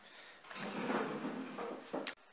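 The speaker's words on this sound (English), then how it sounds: "Let me grab a chair." A chair dragged and scraped across the floor, one continuous rough scraping sound of about two seconds that ends in a short knock, close by with no talk.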